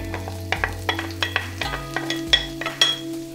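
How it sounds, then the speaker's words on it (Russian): Chopped onion and garlic fry in fragrant heated olive oil, giving a steady close sizzle, with a spoon or spatula stirring and scraping the pan in repeated short strokes and a low hum running underneath. "Здесь надо разогреть оливковое масло, конечно же, ароматное. И сразу же выкладываю нарезанный лук и чеснок."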